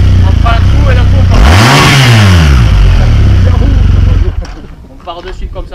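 A motorcycle engine revs hard at full throttle, with pitch sweeping sharply up and then back down in a single loud burst before dropping away into quieter mechanical noise.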